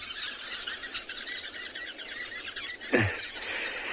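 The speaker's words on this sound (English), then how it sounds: "that chirping will stop very shortly" Dense, steady chirping fills the background throughout at sunrise on safari, with one brief sliding squeal cutting in near the end.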